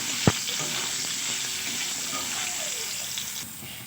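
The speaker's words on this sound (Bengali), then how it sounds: "এবারে আমি আলুগুলোকে ভেজে নেব।" Potato pieces fry in hot oil in a pan for a mixed vegetable dish, a soft continuous sizzle with a sharp knock near the start and faint scraping.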